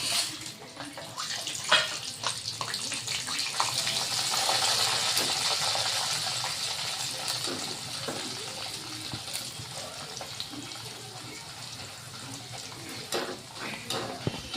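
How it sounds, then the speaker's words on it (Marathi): Corn poha frying in hot oil over a high flame makes a continuous, rushing crackle and hiss that holds steady at moderate loudness, with scattered small pops throughout. "आता इथे एवढे कॉर्नचे पोहे आहे हे तळून घेणार आहे"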